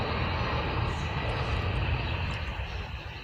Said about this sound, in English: This is a C-17 Globemaster III.